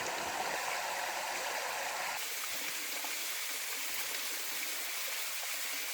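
The Marmaros waterfall stream on Gökçeada flows in a steady, close, unbroken rush of water, with no voices.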